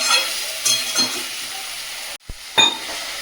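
Vegetable stems sizzle steadily while being sautéed in a home kitchen frying pan, with soft stirring clinks. The sizzle cuts out briefly, then returns with a sharp scrape.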